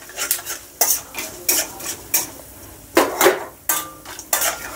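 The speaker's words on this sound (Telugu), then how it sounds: "ఒక 5 నుంచి 10 నల్ల మిరియాలు వేసేసుకొని వేపుకోవాలి." Black peppercorns and lentils frying in a pan: a spoon scrapes and knocks against the metal in a rhythmic series of about a dozen strokes over a low, steady sizzle, close and loud.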